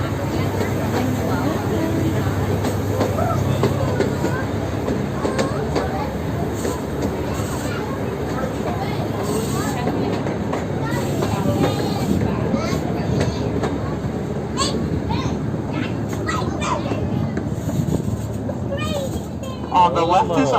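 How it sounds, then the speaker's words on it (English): Zoo train rumbling and clattering steadily as it rolls into the train barn at the Virginia Zoo, a continuous close low-frequency rumble with passengers talking over it throughout. "We are now entering the train barn, This is where the train is held overnight and in bad weather."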